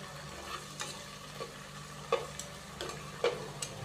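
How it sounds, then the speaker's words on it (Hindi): Ginger and garlic paste frying in a pan, with a steady low sizzle under a few light scrapes and taps of stirring. "अच्छे से मिक्स करेंगे और अदरक और लहसुन के पेस्ट को हम हल्का सा फ्राई कर लेंगे।"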